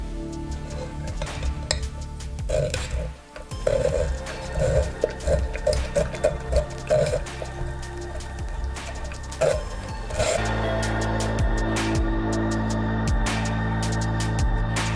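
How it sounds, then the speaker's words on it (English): Homemade herbal eye drink being strained, with close clinks of pots, utensils and glass and some liquid movement, then a steadier pouring or running sound in the last few seconds. "So here we are going to strain everything to get that special drink"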